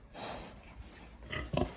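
A pig in a farm pen gives soft, close grunts and snorts, a few short low bursts clustering toward the end against a quiet background.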